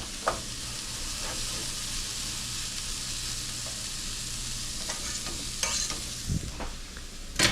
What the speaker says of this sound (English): A little knob of butter in there, never hurt no one.